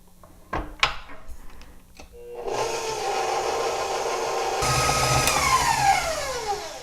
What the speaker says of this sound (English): We're going to start our mixer on low speed and then bring it up to medium-high and let it go for 5 minutes